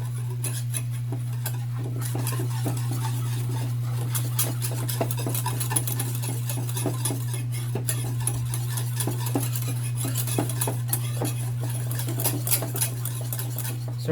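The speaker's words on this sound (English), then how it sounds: "While mixing this, make sure that there is no lumps of our cocoa" Cocoa mixture being stirred in a pan, with a steady run of small scraping and tapping clicks over a constant low hum, close and moderately loud, no talking.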